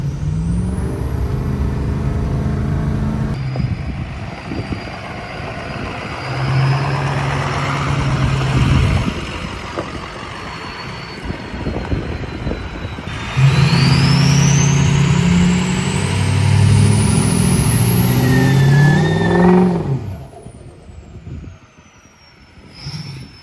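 A Ford 6.0 Powerstroke diesel truck engine revs and accelerates through several gear pulls, loud and close, with rising whines, turbo whistle and deep rumbling surges that drop away near the end.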